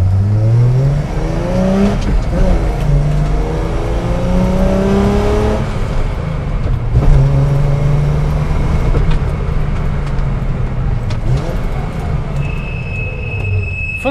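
A Datsun 240Z engine is revved hard while driven, loud rising and falling howls as it climbs through the gears, with road rumble throughout.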